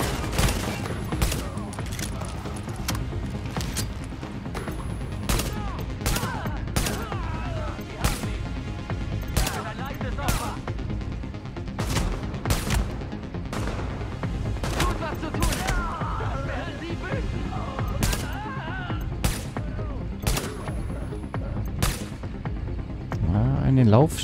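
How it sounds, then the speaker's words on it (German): Gunfire in Tom Clancy's The Division: dense volleys of sharp shots crack out in rapid bursts and single reports throughout, loud and close, with someone talking underneath. "Schöner Einzelfeuer."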